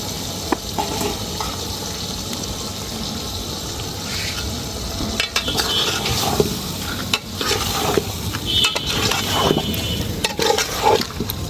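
Chicken pieces being cooked down in a pan for a village-style chicken kosha, heard as continuous sizzling and frying with frequent scraping and stirring clatter, busy and fairly loud, with no talking.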